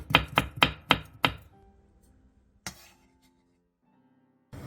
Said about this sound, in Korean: 대파 조금과 청양고추 1개를 어슷썰게 해주세요.